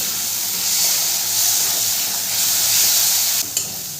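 Spice masala for a Bengali ghugni, dried pea curry, fried and stirred in a pan, giving a steady close sizzle and hiss that runs throughout, with a brief scrape near the end.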